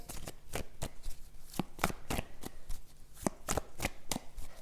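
A tarot deck is shuffled by hand, giving a rapid series of crisp riffling and slapping card bursts in an irregular rhythm, close and fairly quiet, with no talk.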